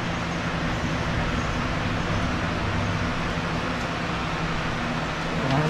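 A fan runs steadily in a hot garage during an engine install, giving a constant broadband whoosh with a low hum, loud and unbroken for several seconds with no voices.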